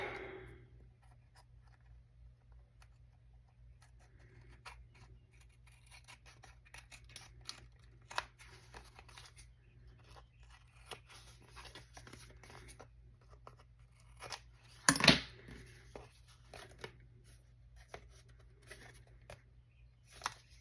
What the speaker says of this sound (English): I'm just gonna cut off the excess.